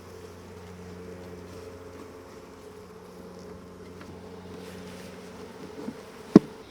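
Continuous buzzing of many honeybees close by as they are dumped from a nuc into a hive, a steady hum with a sharp knock near the end.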